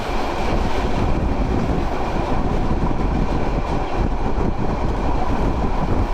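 The Kishoreganj Express intercity train passes Ghorashal Flag railway station in Bangladesh, a loud, steady, unbroken rumble of wheels and carriages filling the whole stretch.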